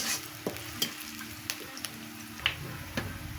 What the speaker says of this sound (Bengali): এখন পেঁয়াজ আর মরিচগুলো নরম হয়ে আসা পর্যন্ত ভেজে নেব